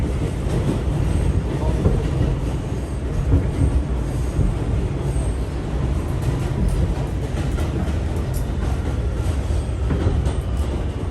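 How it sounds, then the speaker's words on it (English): A Brooklyn-bound A subway train rumbles along the track, a steady loud roar of wheels and carriage noise with faint squeals and rattles and no clear voices. "This is a Brooklyn-bound A train."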